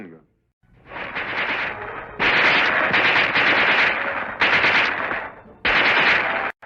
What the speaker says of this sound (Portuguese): A submetralhadora.